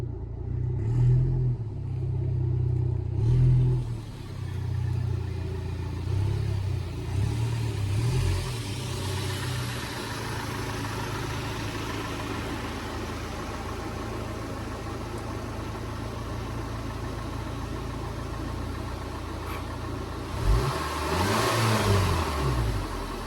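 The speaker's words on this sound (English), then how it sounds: "let's just pull the Audi in here" An Audi car engine runs as it pulls into a 40x30 ft shop barn, a steady close motor drone with light revving, easing off mid-way and picking up again near the end.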